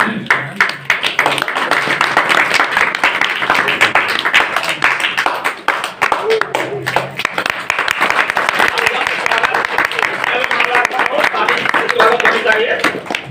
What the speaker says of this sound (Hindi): तालियों में दम होना चाहिए।